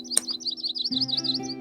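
Digital bird call from the Wingspan board game video game, a rapid series of bright, high chirps and warbling tweets lasting under two seconds, clear and close over a steady low electronic hum, with no talking.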